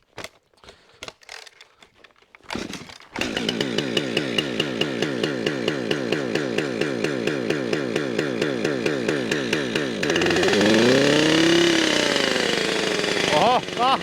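Cheap Chinese-made 545 XPG chainsaw started in -25C cold: after brief handling noises and a pull, the two-stroke engine catches and runs loudly at a fast, rattling idle for about seven seconds, then revs up into a steady high-pitched scream.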